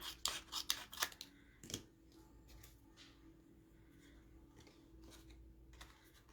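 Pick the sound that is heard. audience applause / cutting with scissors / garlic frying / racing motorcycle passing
cutting with scissors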